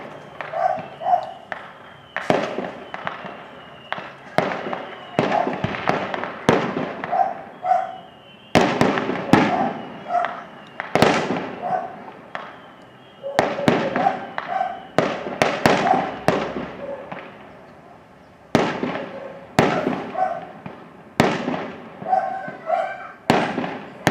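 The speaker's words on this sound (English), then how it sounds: "never say that you didn't see fireworks over the city of La Paz" Fireworks bursting over the city of La Paz as a long run of loud, sharp bangs and crackles, some close and some distant, echoing between blasts, with a dog barking at times.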